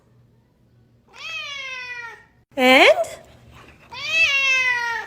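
A cat meows three times, near and loud, with drawn-out cries and a sharper, higher middle call. A person speaks briefly between the meows.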